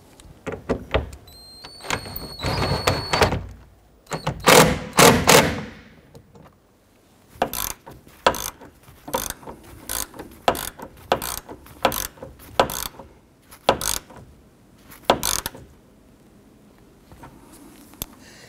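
A ratchet wrench tightens the hardtop bolts on a 1997-2006 Jeep Wrangler, close-up bursts of sharp clicking pawl strokes coming in irregular runs with short pauses between them.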